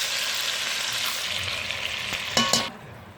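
Oxtails sear in a Dutch oven with a steady, close broadband sizzle, then a brief burst of louder spattering and clatter near the end before the frying noise drops away; no one speaks.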